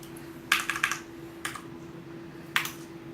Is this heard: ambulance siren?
no